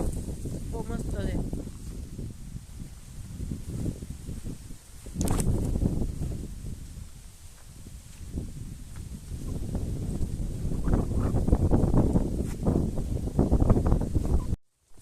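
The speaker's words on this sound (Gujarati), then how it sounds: "ઠંડો એવો પવન છે, બહુ મસ્ત છે." Cool wind blows outdoors in a village, buffeting the microphone in uneven gusts of low rumble that swell and fade throughout, with people talking underneath.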